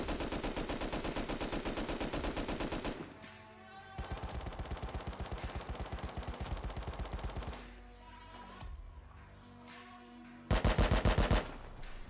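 An LR rifle in the game Rust fires in long sustained automatic bursts, loud and close, with a short pause near three seconds and a final burst near the end.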